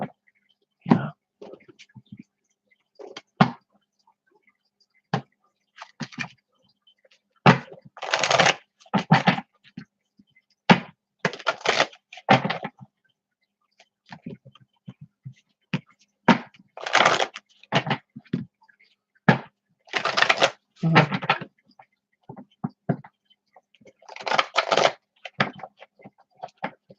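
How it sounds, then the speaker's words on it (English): Tarot cards are shuffled in repeated bursts of crisp riffling and shuffling, close and loud, separated by short quiet pauses over about half a minute. "I just keep shuffling"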